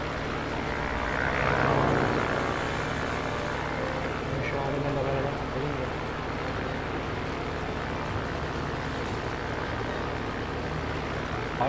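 Bomber aircraft engines in the video game World of Warplanes give a steady, loud propeller drone that runs the whole time, swelling slightly early on before settling into a constant roar.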